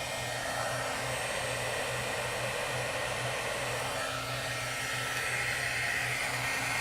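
A heat tool blows a steady, loud whooshing hum as it warms a craft piece from below, continuous and close with a low motor drone underneath throughout.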